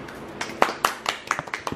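A small group claps at a birthday celebration, a short run of quick, uneven hand claps close by, starting sparse and speeding up.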